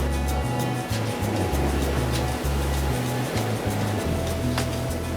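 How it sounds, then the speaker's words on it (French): Ocean waves breaking on a coral reef, a steady loud roar of surf with churning low rumble and occasional sharper splashes, close and continuous, with no voices. "C'est carrément top les vagues là."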